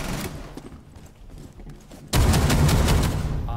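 Gunfire from the video game Rainbow Six Siege, with muffled shots and room noise at first, then a sudden loud, dense burst of rapid shots that continues to the end.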